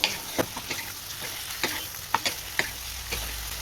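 Chicken and fried onions sautéing in masala, a continuous sizzle broken by quick scraping strokes and light taps of a spoon in the pan, close by.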